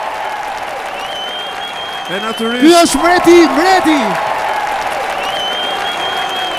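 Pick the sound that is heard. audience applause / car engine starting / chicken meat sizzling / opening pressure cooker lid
audience applause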